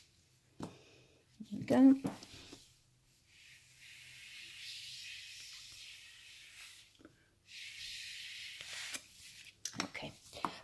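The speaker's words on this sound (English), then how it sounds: "And let's spritz that." A few quick hissing spritzes of a spray bottle over alcohol ink on vellum, close and fairly soft, with spoken remarks before and after.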